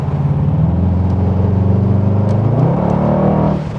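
A Mercedes-AMG GT63S, rated at 639 horsepower, accelerates hard with its variable exhaust open. A loud, close engine drone rises in pitch as the revs climb, and a few faint, brief crackles and pops come from the exhaust.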